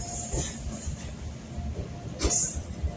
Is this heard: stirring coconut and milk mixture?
no